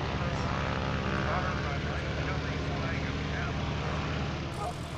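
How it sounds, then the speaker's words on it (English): A light airplane flying the landing pattern at an EAA chapter fly-in in 2021, its propeller engine droning steadily and fairly loud throughout, with people talking nearby over the noise. "she's going to come around the corner and give us a landing"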